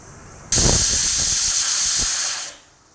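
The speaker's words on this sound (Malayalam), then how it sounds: "പരിപ്പ് ആദ്യം കഴുകി നമുക്ക് വേവിച്ചെടുക്കാം" A loud, steady hiss of steam bursts out suddenly from a pot of lentils (dal) cooking, holds for about two seconds with faint rattling underneath, then cuts off.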